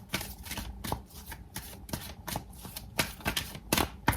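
Tarot cards are shuffled in the hand and drawn, giving rapid papery riffles and flicks in irregular bursts, close and fairly quiet with no voice over them.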